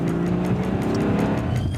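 Car accelerating hard away from police in a pursuit, engine roaring steadily with squealing tires, loud and close throughout.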